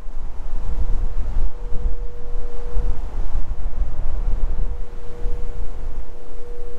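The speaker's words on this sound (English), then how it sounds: "That wind about knocks you over." Strong wind buffets a GoPro Hero 7 fitted with a windsock beside the Columbia River at Bonneville Dam, a loud continuous roar with surging gusts and a faint steady hum underneath, no voices.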